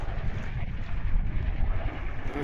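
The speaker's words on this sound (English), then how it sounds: "Beautiful day, bit windy." Steady wind buffeting the microphone outdoors on a car dealership forecourt, a continuous low rumble with gusty swells throughout and no other clear sounds.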